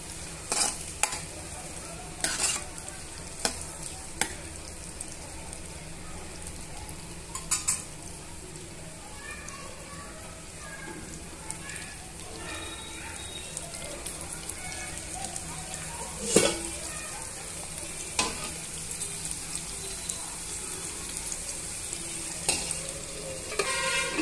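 Chopped onions and green chillies fry on medium heat, giving a continuous sizzle broken by repeated sharp clinks and scrapes of a spoon against the pan.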